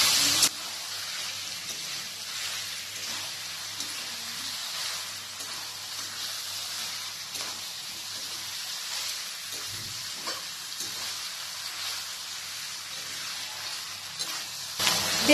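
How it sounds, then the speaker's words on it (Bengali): Mutton and onions frying on high flame while being stirred, a dense continuous sizzle and hiss with faint scraping underneath, close and even throughout, no talking. "হাই ফ্লেমে রেখে 10 থেকে 15 মিনিটের মতো নাড়াচাড়া করে নিতে হবে।"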